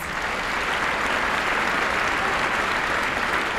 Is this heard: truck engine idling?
no